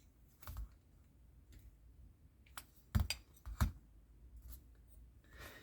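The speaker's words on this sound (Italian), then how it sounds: "Non appena sentirete il click sarete certi che la vite ha preso perfettamente il filetto" Small, sharp clicks of a screwdriver turning a screw until it catches the thread in metal, a few faint taps followed by two crisp louder clicks close by in a quiet room.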